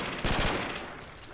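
Burst of rapid gunfire from a weapon in a Call of Duty custom zombies game, a quick volley of several shots at moderate level, fading into a dull tail.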